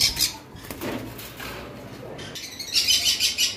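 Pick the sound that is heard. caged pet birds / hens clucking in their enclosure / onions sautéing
caged pet birds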